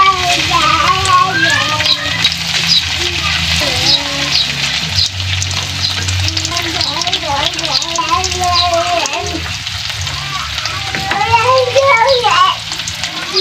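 Tofu fries in a pan with continuous loud sizzling and crackling oil, while a voice talks over it throughout.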